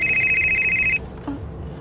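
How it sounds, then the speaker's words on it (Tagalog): A cellphone rings with an incoming call, a bright repeating electronic tone lasting about a second, loud and close, before it cuts off and faint background noise follows. "May nanawag sa imong cellphone."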